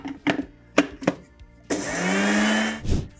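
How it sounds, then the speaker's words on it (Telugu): A kitchen mixer grinder powders sugar: a few short pulses start it, then it spins up into a single loud, steady whirring grind for about a second before cutting off with a brief final buzz. "నేను షుగర్ని పౌడర్ చేస్తున్నాను"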